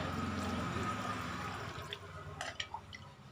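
Rice-rinsing water poured into a pot of Isan-style pork and dill curry, a soft trickle and splashing drips of liquid close by, growing more broken toward the end.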